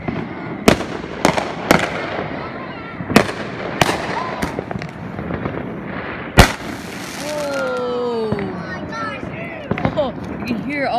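Fourth of July fireworks explode in sharp, loud booms at irregular intervals, one especially strong blast near the middle, with distant rumble between and whistling, warbling tones rising late; a voice talks faintly underneath.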